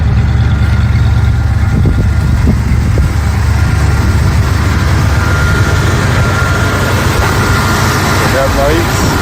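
A muscle car with dual exhaust idles nearby in a loud, steady, low rumble that holds evenly throughout.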